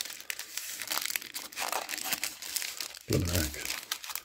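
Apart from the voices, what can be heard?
unwrapping Titanic model parts from their wrapping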